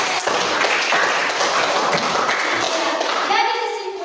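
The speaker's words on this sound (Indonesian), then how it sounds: "Iya, berikan dulu tepuk tangan." An audience in a class presentation on economics gives a burst of applause, dense close clapping that holds steady for several seconds and thins out at the end, with faint voices mixed in.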